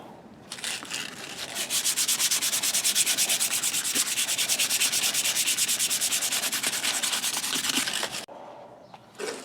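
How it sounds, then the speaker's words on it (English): A knife handle is sanded with wet-dry sandpaper used dry, producing loud, close, rapid back-and-forth rasping strokes that run steadily for several seconds before stopping abruptly near the end. "So I can now work on the handle with this wet dry sandpaper"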